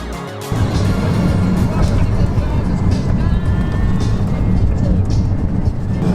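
A Bugatti Veyron's engine and exhaust rumble loudly and steadily after a brief quieter start, a deep continuous drone as the car sits close by on a city street.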